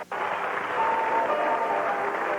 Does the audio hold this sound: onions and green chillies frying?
no